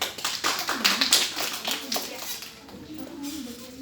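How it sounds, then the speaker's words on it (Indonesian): A short burst of hand clapping from a small group of students in a classroom, with a voice heard faintly alongside before the claps fade out. "beri tepuk tangan"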